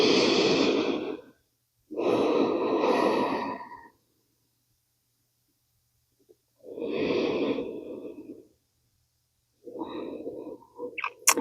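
Slow, deep breaths during a yoga resting pose: four long, close breathy inhales and exhales with quiet pauses between, heard alone without talking.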